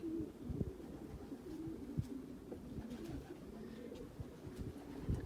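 Racing pigeons in a loft at a pigeon station coo softly and repeatedly, low throaty calls overlapping one another amid faint shuffling and wing flutters, with no talking.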